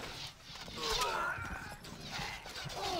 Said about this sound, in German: Unsere Pferde sind bereit.